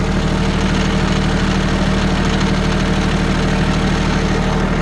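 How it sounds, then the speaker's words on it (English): A Kioti LK3054 4WD diesel tractor with a loader idles steadily up close while its PTO runs, giving a constant, loud engine drone with no voices. "There's your running PTO."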